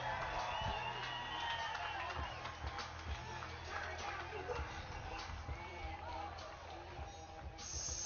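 A crowd at a Bassmaster Elite bass fishing tournament weigh-in at Lake Havasu cheers and claps continuously at a distance, with an announcer talking over the noise.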